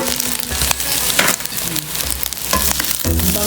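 Star margarine with spring onion and parsley sizzles loudly in a hot pan alongside chicken inasal, a steady crackling fry with stirring scrapes and brief pops throughout, no voices.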